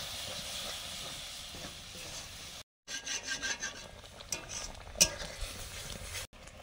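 Spice paste with a little water sizzles and hisses in a pan for paneer butter masala, with scraping stir strokes and a brief gap of silence midway, then renewed rasping and a sharp clatter.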